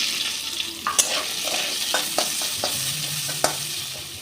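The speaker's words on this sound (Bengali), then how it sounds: "এবার 2টো পেঁয়াজ আমি ভেজে নেব।" Two onions fry in oil over a spiced tempering of cinnamon, cardamom and cloves. A steady, close sizzle carries repeated stirring scrapes and light clicks, with no one speaking.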